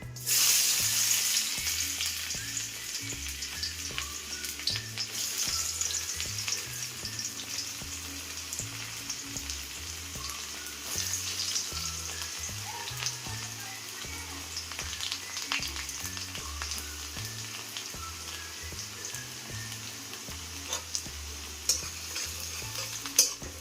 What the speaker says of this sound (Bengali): রসুন কুচিগুলো আমি একটু ভাজা ভাজা করে নেব।